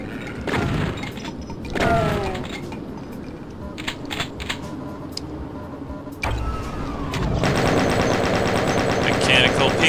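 Rapid chain gun bursts from the Doom shooter, sharp clattering volleys that start and stop in short runs, with a long sustained stream of fire toward the end; a voice speaks briefly between bursts.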